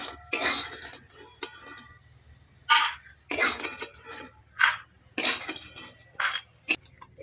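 Metal utensils clatter and scrape against a kadai as fried lentil dumplings (bori) are lifted out, producing several sharp, separate clinks and scrapes with quiet gaps between them.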